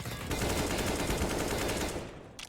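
Rapid automatic gunfire rattles in a Counter-Strike: Global Offensive esports match, a loud, dense burst of shots lasting about two seconds before cutting off, with a brief final crack.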